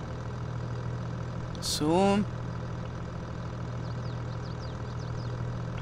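A tractor engine idles in Farming Simulator 23, holding a steady low hum throughout, while a short rising whistle-like chirp cuts in briefly partway through and a man utters a single short word.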